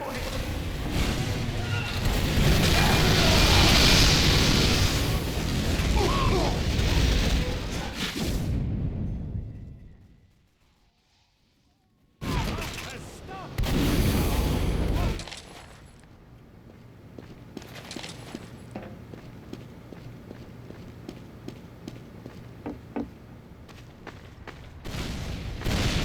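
Team Fortress 2 combat with a shotgun against an engineer brings loud bursts of gunfire and blasts, then a sudden near-silent gap, then more shots and sharp hits. Voices are heard over the action.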